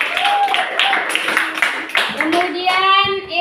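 Schoolchildren in a classroom clap together in a brief burst of applause, mixed with overlapping children's voices and chatter throughout.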